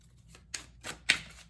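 Tarot cards being shuffled by hand, a few short crisp riffles and flicks separated by brief pauses, quiet and close with no talking.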